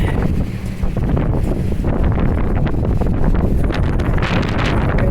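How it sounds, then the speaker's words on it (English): Loud, buffeting wind roars across the microphone in heavy gusts on a downtown street, rumbling and flapping continuously with no letup. "Oh, windy or what?"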